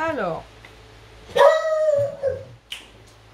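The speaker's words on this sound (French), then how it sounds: "Désolée, il aboie beaucoup." A dog barks and howls inside a house: a drawn-out howling bark, then a couple of shorter barks nearby, with someone speaking briefly.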